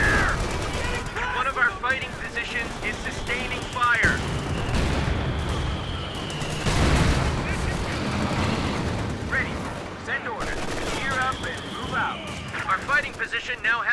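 Sustained battlefield gunfire in Company of Heroes 2: dense rifle and machine-gun bursts mixed with heavy booms of artillery, loud and continuous. Voices shout orders over the combat throughout.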